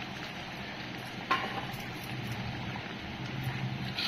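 Pointed gourd and prawns going into a simmering curry gravy, a soft steady sizzle and bubbling with one faint clink, low and close.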